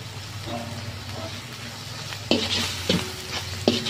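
Spatula stirring tuna sisig with soy sauce and a beaten egg in a hot pan, a steady sizzle underneath and a few sharp scrapes and clinks toward the end, close and moderately loud.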